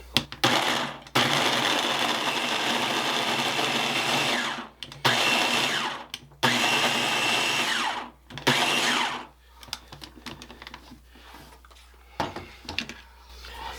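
A food processor pulses a pie crust mixture into coarse crumbs in loud, whirring bursts of a few seconds each, separated by short pauses, with lighter clatter and knocks toward the end.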